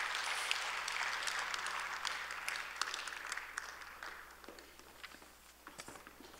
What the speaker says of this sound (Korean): 우리 인사하실 때 다 같이 한번 박수하겠습니다.